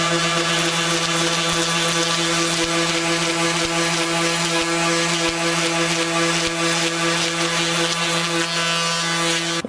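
A camel bone classical guitar saddle gripped in a vise and ground down with a power sanding tool, a steady, loud, whining hum with a faint repeated scraping underneath, heard close without talk.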